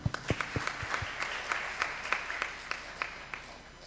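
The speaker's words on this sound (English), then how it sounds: "A round of applause." A panel audience at a faith and environment discussion applauds a speaker, a steady wash of many hands clapping with a few sharper, louder claps standing out near the microphone, fairly faint overall and lasting throughout.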